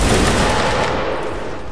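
A volley of musket gunfire from a battle reenactment pairing the 33rd and 82nd Regiments bursts out as a dense, loud cluster of overlapping shots that sustains briefly before tapering.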